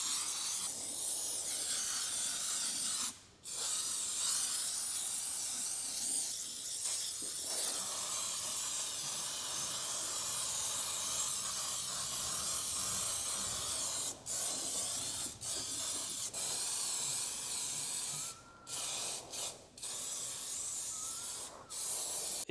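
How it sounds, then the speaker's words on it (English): Aerosol can spraying rust converter onto rusty metal on a VW Passat R36, a steady close hiss running almost continuously with a few brief breaks between bursts. "you spray it directly onto the rust"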